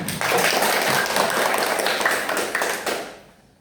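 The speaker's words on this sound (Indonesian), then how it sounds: "Kasih tepuk tangan dong untuk Stella." Classroom of pupils clapping for a classmate after a quiz question in a primary school religion lesson, a dense burst of hand claps close by that holds steady for about three seconds, then fades out.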